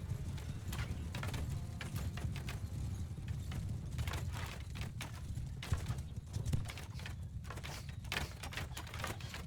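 Massed cavalry of horse archers gallop across a battlefield in Mount & Blade II: Bannerlord, a dense, continuous drumming of hooves with sharp clip-clop accents over a low rumble, steady throughout.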